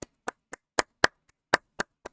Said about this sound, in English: it's got a nice little round of applause in here